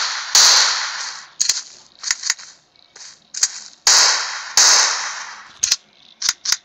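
Sharp gunshots ring out in the Bigfoot Monster Hunter video game, about a dozen loud cracks in irregular clusters, some with short echoing tails.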